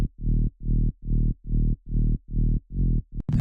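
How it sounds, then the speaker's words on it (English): A psytrance bass line made in Ableton pulses in short, evenly spaced sidechained hits, about eight deep throbbing notes with a pumping gap between each, played alone and ending on a brief click-like accent. "So the bass alone sounds like this."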